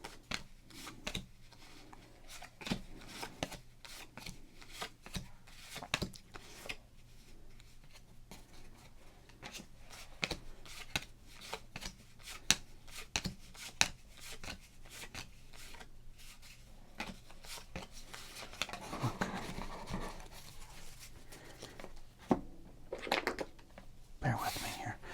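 Close, crisp crinkling and rustling as 1988 Topps baseball cards are handled and shuffled in wrappers, in irregular bursts of crackle with soft pauses between, growing busier near the end.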